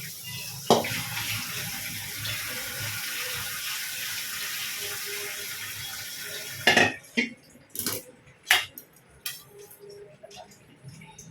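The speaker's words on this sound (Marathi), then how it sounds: "आता ह्यात थंडी पाणी घालायचं आपण" Cold water pours steadily into a pot of blanched spinach for several seconds, a rushing splashy stream, followed by a few sharp clanks and knocks of the metal pot and utensils.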